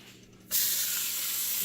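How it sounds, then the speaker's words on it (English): A sudden loud sizzle bursts in after a quiet moment and holds steady as a bright, crackling hiss of chicken frying in a hot oiled pan. "that's the sound you want to hear when you're laying down some meat in a hot pan. Nice sizzle."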